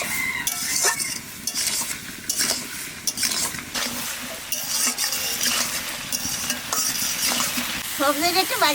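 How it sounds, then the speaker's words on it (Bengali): Mixed home-garden vegetables, seasoned with turmeric, fry in a pan with a steady loud sizzle while a utensil stirs and scrapes against the metal in repeated clinks. "সবজিটা একটু বাজে নিচ্ছে, আমি জল দিয়ে দেবো।"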